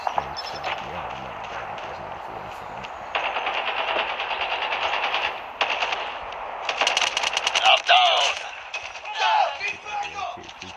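Automatic weapon fire in the mobile shooter game Call of Duty Mobile, rapid rattling bursts under the game's ambient sound, with a player talking over the action.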